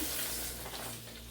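Soft, steady sizzling and bubbling rises from a pot while Rice Krispie squares are being made, a faint continuous hiss with no talking.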